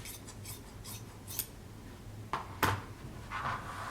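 Scissors snip through the folded edge of fabric for a homemade cape, giving a few crisp, close cuts with soft rustling of cloth between them.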